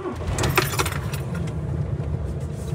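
Heavy expedition truck chassis with subframe and no habitat box rolls slowly onto a weighbridge, a steady low engine rumble close by with light rattles and clinks over the top.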